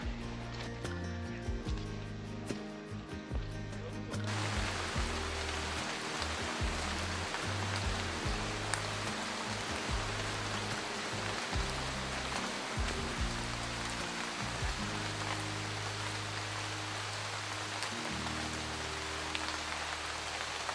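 Steady rain falls during a hut-to-hut hike in the White Mountains, pattering on a nearby surface close to the listener, a constant dense hiss with scattered heavier drops and some low thumps.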